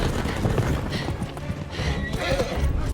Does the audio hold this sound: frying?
no